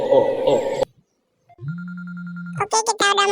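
A phone in an Indonesian horror video game rings as a low steady electronic ring tone after a moment of silence, followed by brief higher chirping tones, with talking before and after.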